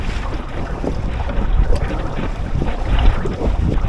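A sailboat motoring under engine power at about five miles an hour, a low steady engine rumble mixed with wind buffeting and water wash, close to the microphone.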